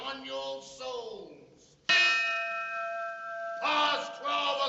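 A church bell tolls in a 1947 period film set in old London, a loud clanging strike ringing out with a long sustained hum after earlier fading tones.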